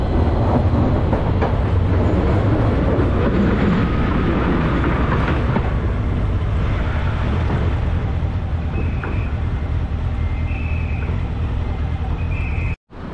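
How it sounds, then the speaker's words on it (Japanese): A Toyama tram or train runs alongside in the neighbouring lane, its steady rolling rumble and road noise filling the whole stretch, with a few faint high tones near the end before it cuts off. "隣の車線を電車が走っているという、私にとっては非日常体験で楽しすぎます。"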